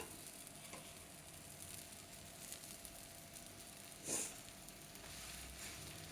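Chapati cooking on a pan over a high flame, a faint steady sizzle throughout with one brief louder crackle partway through, no talking.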